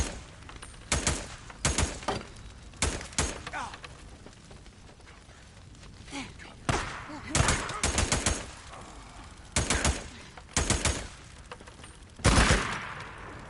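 Gunfire in the video game Days Gone comes as repeated loud bursts of rapid shots separated by short pauses, with game sounds rumbling between the volleys and a voice faintly heard in places.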